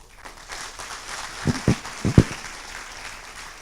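Audience applause welcoming guest speaker Dr. Marisa Lazo at an anniversary ceremony at a regional university centre in Colón, a steady wash of clapping from a crowd with a few louder, closer claps standing out midway.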